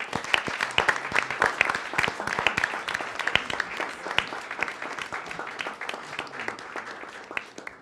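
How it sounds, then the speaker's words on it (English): An audience at a debate final applauds the judging panel, steady close-miked clapping with distinct individual claps standing out over a dense crowd wash for several seconds. "Ladies and gentlemen, a round of applause for our judges."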